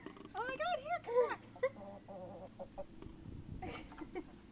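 Chickens clucking nearby, a run of short rising and falling clucks in quick bursts early on, then quieter scattered clucks and rustling.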